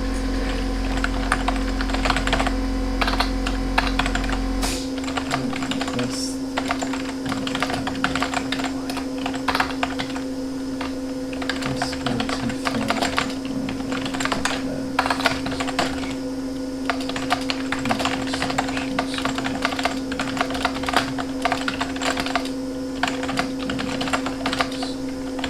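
Steady typing on a computer keyboard, quick irregular key clicks continuing close up over a low constant hum, with no talking.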